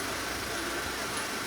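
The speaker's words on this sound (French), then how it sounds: "C'est de l'hydrogène qui est injecté dans le moteur." A car engine idles steadily during hydrogen decarbonization, with hydrogen injected into the motor, producing a constant close, even drone with no pauses.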